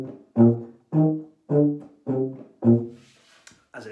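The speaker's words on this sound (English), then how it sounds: "Or if it's the tuba, it'd sound like this." Tuba playing six separate held notes, each lower than the one before, in an even pattern of loud, low blasts. A faint breath or rustle follows at the end.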